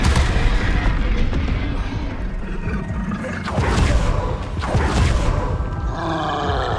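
In the Hogwarts Legacy video game, the Expelliarmus spell is cast amid combat, with loud booming blasts, roaring bursts and grunts in dense rapid succession, followed by a shimmering magical whoosh near the end.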